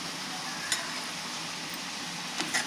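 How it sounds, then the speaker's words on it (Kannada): Dried coconut roasting in oil in a pan over a low gas flame gives a soft, constant sizzle with a couple of light clinks from stirring, steady and close throughout. "ಈಗ ನಾನಲ್ಲೇ ಕೊಬ್ಬರಿ ಹುರಿಯಾಕತ್ತೇನೆ."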